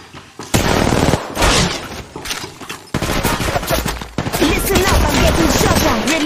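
Sustained bursts of rapid gunfire in the mobile battle royale game Apex Legends Mobile, loud and continuous with brief breaks, overlaid with game effects and a short character voice callout.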